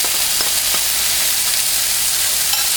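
Garlic and chopped onion fry in hot oil for chicken fried rice, giving a steady, dense sizzle with light stirring throughout and no one talking.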